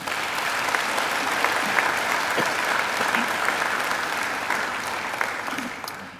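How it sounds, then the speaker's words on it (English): A large audience at a Macquarie University graduation ceremony applauds steadily, a dense, even wash of many hands clapping that holds at moderate loudness and begins to fade at the very end. "They deserve a round of applause too."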